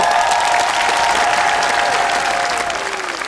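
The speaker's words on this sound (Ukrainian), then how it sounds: "я вам такі вдячний за ці оплески" A TV studio audience at a comedy show claps loudly and steadily, with a faint tonal hum running underneath and tapering near the end.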